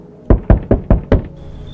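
Five firm, evenly spaced knocks on a wooden door in the horror game No, I'm not human, loud and close, followed by a faint lingering tone.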